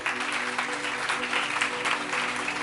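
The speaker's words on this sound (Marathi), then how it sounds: "आता वाजवा जोरदार टाळ्या." A church congregation claps loudly and steadily, a dense, continuous burst of applause from a large group that fills the room with no voice on top.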